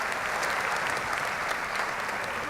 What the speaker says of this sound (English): Ladies and gentlemen, please applaud for my assistants.